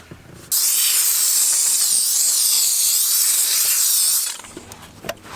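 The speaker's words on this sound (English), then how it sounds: "See what's good about the steam cleaner too?" A steam cleaner blasts into a car's vents with a loud, harsh hiss that starts abruptly, holds steady for about four seconds, then cuts off, leaving faint workshop sounds.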